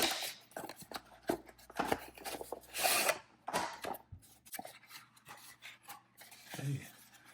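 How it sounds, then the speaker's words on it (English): A cardboard box holding a three-pack of one-piece steel single-bevel arrow broadheads being torn and pulled open, with close scratchy rips, rubbing and crinkling in uneven bursts and a few sharp tears, alone without talk. "All right, let's get this box open."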